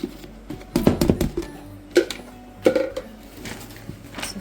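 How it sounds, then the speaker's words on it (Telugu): Homemade karam podi, a chilli powder mix, stirred together in a bowl, giving scattered clinks and scrapes of a utensil against the container in short irregular bursts, close and moderately loud. "మనము ఇదంతా ఇలా మిక్స్ చేసుకోవాలి."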